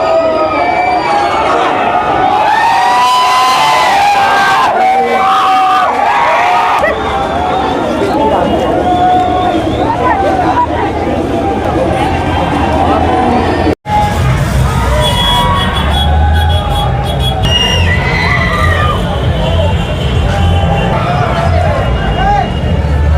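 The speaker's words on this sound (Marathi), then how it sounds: "आपण बघतो इथे मोठ्या प्रमाणात जल्लोष" Shiv Sena supporters celebrate an election result in Malegaon, a loud, dense crowd din of shouting and cheering voices that runs throughout, with a brief drop near the middle before the noisy celebration resumes.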